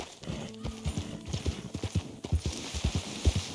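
Hooves of a white Appaloosa horse clip-clop in Red Dead Redemption 2, a close, steady rhythm of hoofbeats at an easy pace, with a brief whinny near the start.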